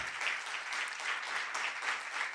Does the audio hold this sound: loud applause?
yes